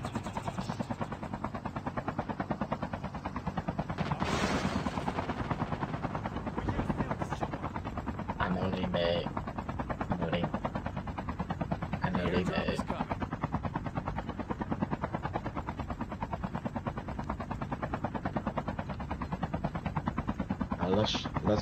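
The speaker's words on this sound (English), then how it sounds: "get in the chopper" A helicopter in a battle royale video game whirs loudly and steadily throughout, with occasional gunfire-like bursts and voices talking over it.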